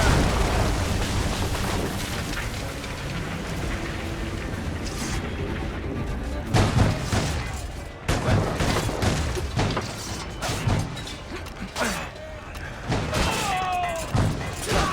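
Naval cannon broadside from Assassin's Creed Rogue during a ship battle: heavy booms roll out in overlapping bursts, loud and dense over a constant rumble of sea and battle, with shouted orders from the crew.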